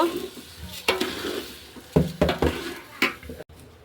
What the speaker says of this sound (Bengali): চালটা হালকা ভেজে নেব।